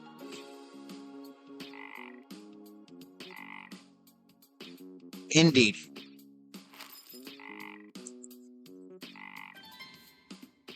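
Frogs croak in the video game Legends of IdleOn, repeating in short rhythmic bursts over looping game music, with a brief sharp clink in the middle and a single spoken word.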